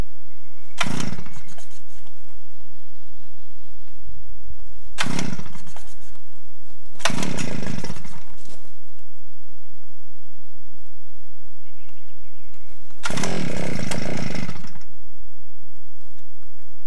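An Earthquake Dually petrol earth auger engine being pull-started. It gives four short, loud sputtering bursts that cut out in the silence between attempts, the last one slightly longer.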